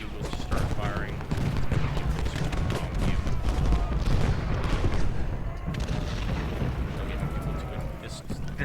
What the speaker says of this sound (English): Go ahead and get McDougal to start firing.